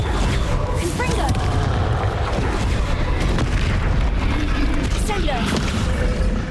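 A Confringo spell blast in Hogwarts Legacy during a hard-difficulty fight, heard as dense booming, crackling combat noise with short bursts, kept up at a steady loud level.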